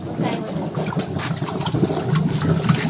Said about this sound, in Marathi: गुडबुड गुडबुड झाला, मी पाणी येतोय